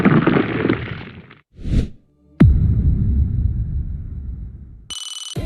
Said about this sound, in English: and reverse whooshes